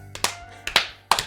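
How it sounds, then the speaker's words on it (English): Three quick hand claps ring out in a row, each slightly doubled as if two hands were not quite in unison, sharp and close in a quiet room. "can one of you clap 3 times in a row?"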